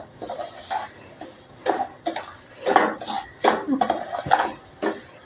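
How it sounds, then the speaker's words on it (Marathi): Semolina is stirred and roasted in a pan for a mango sheera, with scraping, clattering strokes in uneven bursts, close up, while someone talks over them. "आता मी छानपैकी असा खमंग भाजून घेते."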